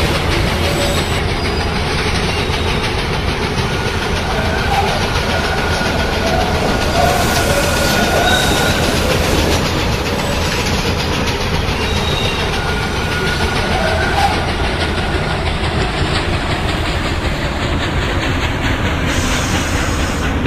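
A TTC subway train on the YUS line runs in the Hmmsim2 train simulator, nearing St. George Station, with a steady, loud rumble and hiss of wheels and motor that continues unbroken throughout, with no voices.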